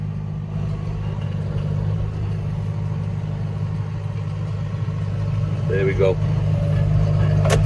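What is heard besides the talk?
tractor engine revving while baling haylage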